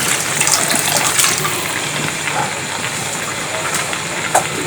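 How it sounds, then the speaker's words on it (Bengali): Water is poured into a pot of fried kalai lentil curry, a steady gushing splash that runs for several seconds at close range. "একটু পানি দিয়ে দিব।"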